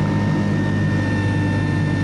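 A light aircraft engine drones steadily at cruising RPM during a thermal-soaring flight on a short winter day, a loud, constant hum close by with no talking.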